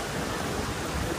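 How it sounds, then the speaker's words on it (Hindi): Heavy rain falls at a picnic spot in Kashmir, a steady, dense hiss that stays even and close throughout the brief stretch, with no talk. "बारिश ना थमने का नाम नहीं ले रहे"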